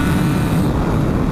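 A MotoGP racing motorcycle accelerating on the Misano circuit, giving a loud, continuous, dense engine roar that fills the whole moment with no talk over it.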